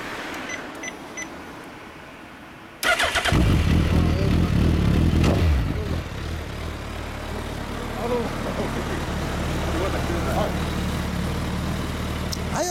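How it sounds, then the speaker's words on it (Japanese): A 2015 Suzuki GSX1300R Hayabusa, Japanese domestic model with a Yoshimura exhaust, fires up abruptly and revs hard and loud, then settles into a rumbling idle, with faint voices in the background. "ごめんなさい、エンジンを吹かせてもらえますか。"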